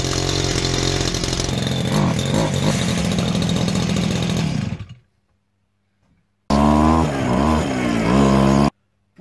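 A mini go-kart powered by a pull-start brush cutter engine buzzes loud and steady for about five seconds, cuts out to silence, then returns with a rising and falling revving whine before stopping abruptly.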